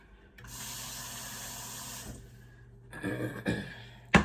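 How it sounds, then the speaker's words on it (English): Water from a tap runs steadily into a cooking pot to top up potatoes, a continuous splashing pour for about a second and a half, then a few clattering handling knocks and a sharp bump. "I'm just gonna put some more water in the bottom for my potatoes"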